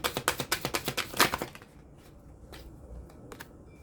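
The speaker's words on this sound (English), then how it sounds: "I'm going to shuffle a different way." Tarot cards shuffled by hand in a rapid riffle of close, crisp flutters for about a second and a half, followed by a few softer isolated card taps and slides.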